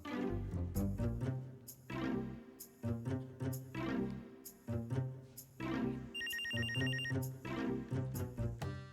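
A telephone rings in repeated bursts inside a drama scene, its bright electronic ringtone pattern pausing briefly between rings, fairly faint and with no talking over it.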